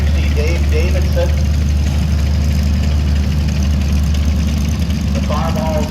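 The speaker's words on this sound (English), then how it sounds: "this is a Buick V8 in this 1961 560 Dave Davidson" A Buick V8 engine in a 1961 International 560 tractor runs at a steady low idle, a loud continuous rumble with rhythmic firing throughout the show-ground outdoors.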